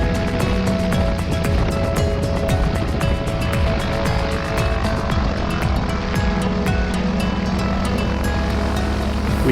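A Cessna 180 taxiing after landing on a backcountry strip, its propeller engine droning steadily and loudly with a constant rumble and buzz throughout, no voices.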